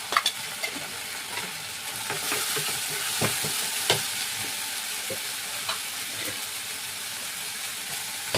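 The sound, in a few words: spice paste being sautéed and stirred in a frying pan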